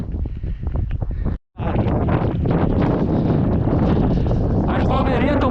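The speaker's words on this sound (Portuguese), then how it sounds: "O vento tá rasgando. O sudoeste chegou." Strong southwest wind buffets the microphone while speed flying above palm trees, a loud continuous roar with a brief gap before it surges back and keeps rushing.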